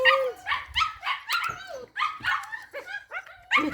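Puppies bark and yip in a rapid, excited string of high-pitched calls with brief whimpers, close and loud throughout.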